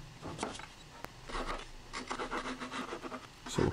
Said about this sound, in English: The bottom cuts here are always a little bit of a pain, so I get a chisel.